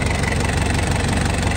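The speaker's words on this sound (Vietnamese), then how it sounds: "Động cơ Mazda cực kỳ êm luôn." Mazda engine of a used Sumitomo 2.5-ton forklift idling nearby, a steady, even rumble with a smooth continuous drone and no speech.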